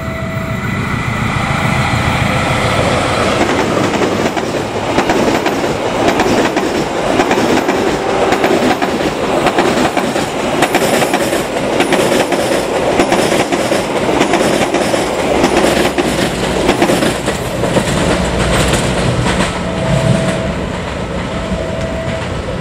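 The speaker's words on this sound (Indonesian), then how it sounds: "Meski ditarik loko CC06, namun KA Argo Wilis yang ini mendapat bendera yang cukup besar." Argo Wilis passenger train hauled by a CC06 diesel locomotive rolls past on Indonesia's southern line, a steady loud rumble of wheels and carriages with rhythmic clatter throughout, a brief horn-like tone near the end.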